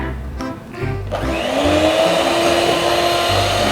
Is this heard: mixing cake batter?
yes